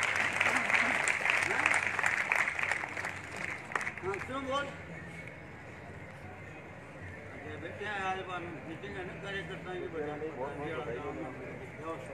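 Audience at a political gathering in Sikar gives loud, dense applause welcoming an honored guest, strongest at first, then thinning, with a voice speaking over the clapping as it continues.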